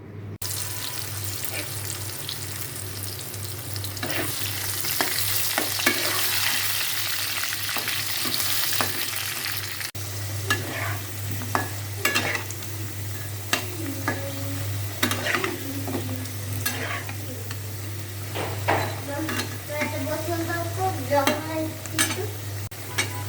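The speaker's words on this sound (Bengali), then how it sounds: "এখন আলুটা ভেজে নিব" Potatoes fry in hot oil for a Bengali garlic chicken curry, giving a close, continuous sizzle with frequent scraping and clinking stirs over a low steady hum.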